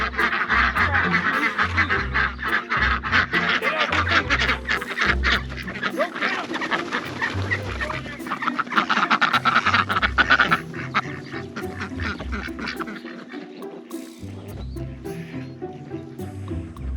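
Farm ducks and geese quack and honk steadily in a busy, dense chorus with repeated calls throughout, along with some thumping and clatter from around the yard.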